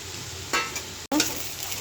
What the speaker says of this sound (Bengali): লুচটা দিয়ে দিয়েছি, এটাকে নেড়ে চেড়ে দেবো।